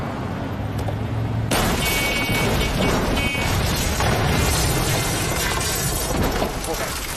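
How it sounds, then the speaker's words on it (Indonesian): A black car speeding toward someone and crashing, with breaking glass: a sudden loud burst of smash and shattering after a quieter moment, then sustained dense noise throughout, with speech mixed in. "ada mobil hitam melaju kencang tepat ke arahnya"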